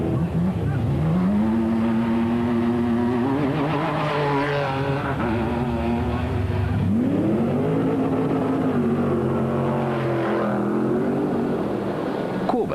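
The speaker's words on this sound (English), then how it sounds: "Mark Corbett and Jason Brewer led away the next 7 starters in the Century Property Development's bat, all of whom were special vehicles." Special vehicle race cars pull away at the start of the 2003 Sun City 400 race, engines revving loudly and rising in pitch through the gears in long sweeping surges, with a commentator talking over them.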